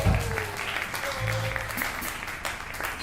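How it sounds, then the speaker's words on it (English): A small audience at a piano and vocal songwriting showcase gives a short burst of clapping, moderately loud at first and then tapering, with a faint voice murmuring at the start. "So give a round of applause, please."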